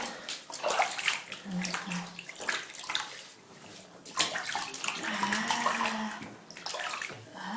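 Bath water splashes and sloshes as someone is bathed in a tub, with running tap-like water and irregular close splashes throughout, under intermittent voices of an adult and someone talking.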